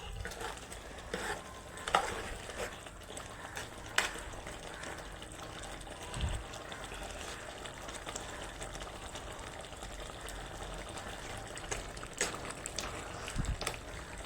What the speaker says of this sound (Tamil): நல்லா கிண்டிக்கணும்